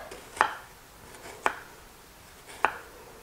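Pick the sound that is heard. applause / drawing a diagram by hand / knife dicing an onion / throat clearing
knife dicing an onion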